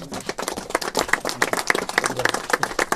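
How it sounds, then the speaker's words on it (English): Applause from an audience at a government event with Governor Gavin Newsom, a dense, steady burst of many hands clapping that fills the moment, close and fairly loud, with no speech over it. "Can we please give him a round of applause?"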